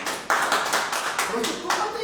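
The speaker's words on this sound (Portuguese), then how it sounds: "Uma salva de palmas aqui." People in a theology class clap in a short burst of rhythmic hand claps for about two seconds, close and moderately loud, with voices underneath.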